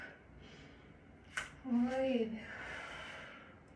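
A slow breath in and out during a guided breathing practice, heard close and soft: a sharp intake followed by a longer audible exhale with a brief voiced tone, and quiet around it.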